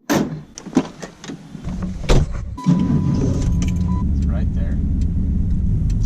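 A Trans Am with an LT1 engine starts up and pulls away on a test drive, a loud steady engine rumble following a brief clatter of keys and door sounds, with a voice briefly speaking early on.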